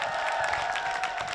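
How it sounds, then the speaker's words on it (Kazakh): Audience applause at a stand-up comedy show in Almaty, a steady wash of clapping and crowd noise filling the hall, continuous and even throughout. "Давай қатырақ шапалақ ұрып қойыңыздаршы."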